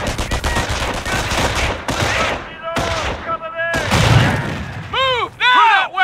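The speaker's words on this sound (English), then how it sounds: "Let's throw a grenade to destroy them." A grenade blast followed by bursts of gunfire in a video game, with loud dense crackling shots, a heavy boom, and whistling, warbling game effects toward the end; a voice talks over part of it.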